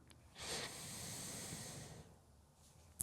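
One slow, deep breath during morning exercise, a soft airy hiss of air drawn in and let out close by, lasting a couple of seconds before fading, with a faint sharp noise at the very end.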